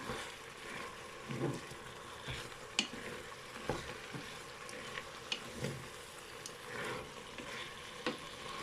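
Onions being stirred in a pan while cooking, a faint low sizzle under soft, irregular scraping and clicking of a utensil, quiet and close, with no voices.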